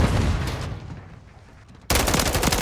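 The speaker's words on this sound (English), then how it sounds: "Stun grenade out!" A stun grenade detonates in Call of Duty Modern Warfare III on the Scrapyard map. A loud, sudden broadband blast cuts in late and stays dense, after a stretch of fading combat noise and gunfire.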